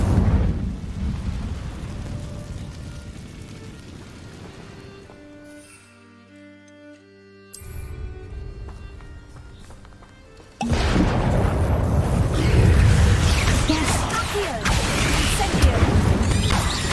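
An Incendio fire spell cast in Hogwarts Legacy: after a stretch of quieter tonal, music-like sound and a brief lull, a sudden loud roaring whoosh of flame bursts in and keeps blazing steadily to the end.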